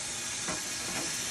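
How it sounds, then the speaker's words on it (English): Ice cubes sprinkled onto a hot aluminum pan in an oven to make steam, a steady loud sizzle and hiss with a couple of brief crackling bursts. "I'm gonna sprinkle a couple of ice cubes on one side,"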